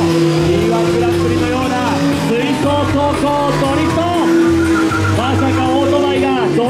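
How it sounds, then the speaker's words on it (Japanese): Stunt motorcycles slide in a tight circle at a school-grounds extreme stunt show, tires squealing in long wavering tones over a continuous engine drone, loud and close, with voices faintly mixed in. "さあ向き合った2台がまさにスライドして、そのまま2台のスライドサークル"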